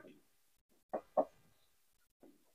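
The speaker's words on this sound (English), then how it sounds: "Guys, we have chicken" Chickens cluck in a couple of short, sharp bursts close by at a home, with faint quieter clucks before and after.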